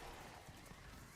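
Horse hooves from a ridden horse in Diablo IV, soft and distant clip-clop steps under ambient game noise.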